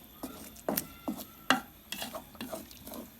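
A spoon stirs carrot halwa (gajar ka halwa) in a pan, making about seven distinct scraping strokes at a steady rhythm over a soft sizzle, close and moderately loud, with no voices.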